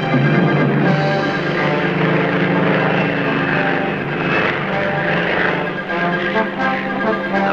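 American utility airplane built for service without airstrips, landing on rough washboard terrain, with a steady loud propeller engine drone that holds through the whole stretch and carries a shuddering, rattling texture.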